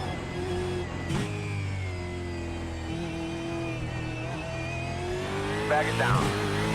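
Gen 3 Supercar engine in iRacing holds a steady, close drone that rises gradually, with a brief shift near the start and a sharper rev and shift toward the end.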